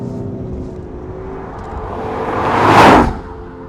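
A 2015 Ford Mustang GT engine droning steadily while driving, swelling louder into a brief whooshing surge near the end before easing off, with no talk over it.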